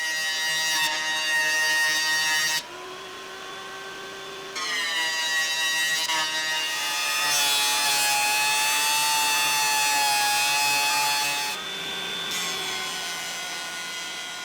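Thin strips being sawn from old weatherboard wood, a loud continuous tonal whine of a power saw that shifts pitch as the cut loads and eases, close and alone.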